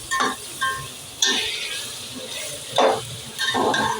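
Tomatoes tipped into softened onions in a pan for a veg biryani, sizzling and frying close by with several bursts of stirring and scraping against the pan, no talk over it.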